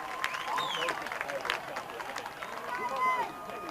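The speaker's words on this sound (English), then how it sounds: "Lively Fossil Ridge crowd here tonight" A lively crowd at a Fossil Ridge high school football game, steady cheering and hubbub with whistles and shouts, heard under a commentator's talk.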